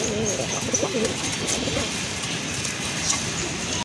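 Pigeons kept for sale, including a pair of local deshi birds, coo repeatedly in low throaty rolls, close and steady against a busy background hum.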